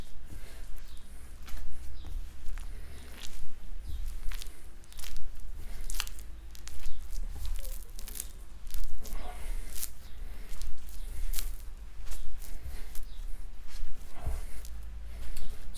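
Hands fold water into pizza dough made with a packet of yeast, giving irregular wet squishes, slaps and sticky crunches up close, with a low background hum.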